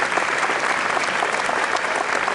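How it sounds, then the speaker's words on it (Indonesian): Loud, dense applause from a crowd at a school award and Indonesian Independence Day ceremony at SMAN 8 Jakarta, steady and sustained throughout with no pauses. "Tepuk tangan buat Pak Gatot."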